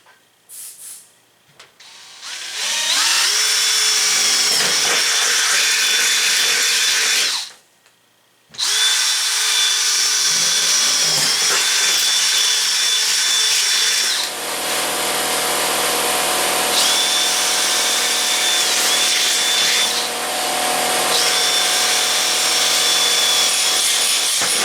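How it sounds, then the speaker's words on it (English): Power drill boring holes for mounting tabs in a race car roof panel, loud sustained whining bursts with a short pause partway through, close up and without talk. "so I'll drill those out once I'm done bending this"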